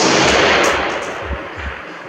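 A single SDM-R rifle shot fired at a distant target on a range, a sharp loud report followed by a rolling echo that fades, with a faint thump of the impact trailing behind.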